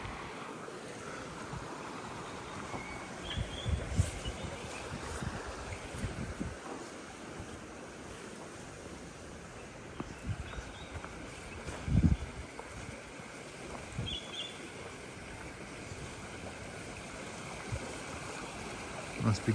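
Water of a small stream runs steadily along a walking track among tree ferns near Nanga Town, with broadband rushing wash and occasional light breeze, with no voices.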